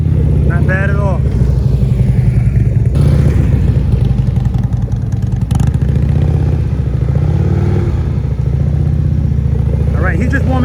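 Harley-Davidson CVO motorcycle engine idling and rumbling steadily at low speed through slow-speed practice turns in a lot, held near and loud throughout, with someone talking over it.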